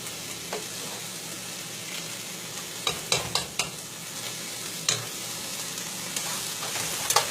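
Chicken tortilla soup with tomato paste stirred in a pot, a steady low simmering sizzle broken by several sharp scrapes and clinks of the utensil against the pot, fairly close and alone.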